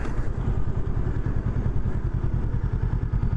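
A Honda Rebel 500 motorcycle engine drones steadily while riding, a dense low rumble with rapid pulsing firing beats and faint clatter, close and continuous throughout.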